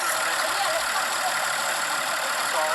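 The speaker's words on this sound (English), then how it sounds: "That is the sound of my car's engine starting." Land Rover engine running just after starting, a moderate, steady mechanical hum with a slightly uneven idle, heard fairly close with no talk over it.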